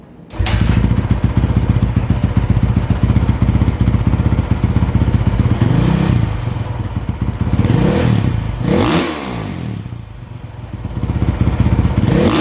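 A 2015 Honda CRF450R dirt bike engine runs loud and close, a steady four-stroke rumble with revving swells and throttle blips toward the end.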